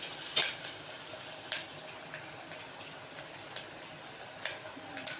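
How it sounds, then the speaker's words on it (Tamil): Garlic sautéing in a pan for a Tamil tamarind curry gives a steady, soft sizzle with a few brief utensil scrapes, faint and without voices. "பூண்டு போட்டுட்டு நல்லா வதக்கி விட்டுக்கலாம்."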